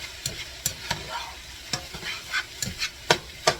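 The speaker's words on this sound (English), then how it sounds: "now we're going to add some more soy sauce. And we're going to mix it all around" Hibachi fried rice is stirred and tossed with soy sauce on a flat-top grill. A spatula scrapes and taps in quick, irregular strokes over a low, continuous sizzle, close and clear, with no voices.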